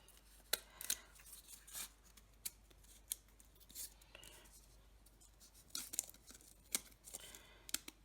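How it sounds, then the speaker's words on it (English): Scissors snip quietly and close by in irregular single cuts, with soft rustling of material between the snips. "I can just go down with my scissors and trim those bits off"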